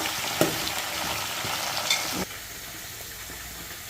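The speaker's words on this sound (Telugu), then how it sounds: "ఇదిగోండి ఒక ఉల్లిపాయ వేసానండి కొంచెం ధనియాలు జీలకర్ర వేసానండి" Onion, coriander seeds and cumin sizzle steadily in a hot pan for a raw papaya pulusu, with a couple of light clinks early on before the frying settles to a quieter, even hiss.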